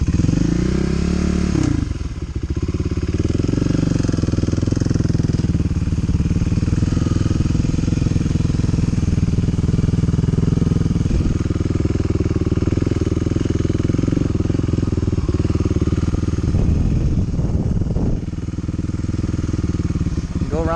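A Honda Hawk 250 motorcycle engine runs steadily as a learner practises clutch control riding a loop at Cravens in Pitkin, Louisiana, a continuous close rumble with small throttle swells and faint clatter throughout.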